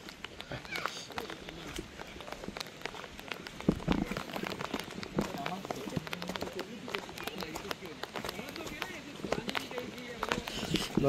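Rain falls steadily on a plastic bag covering a camera while hiking toward the Kondhane Caves, a continuous pattering hiss with scattered nearby drop hits, and people talk over it throughout.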